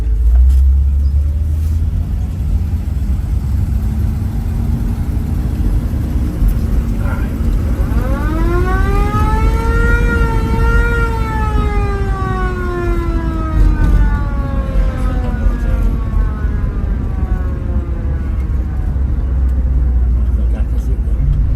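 A 1961 squad car styled after the Mayberry police cruiser drives along with a steady engine rumble, while a wailing siren rises and falls over the motor partway through.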